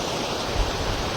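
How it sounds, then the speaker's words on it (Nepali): Water pouring over rocks at a waterfall, a dense, steady rushing roar heard close up for a brief moment with no voices. "ढुङ्गाबाट पानी आउँदैछ"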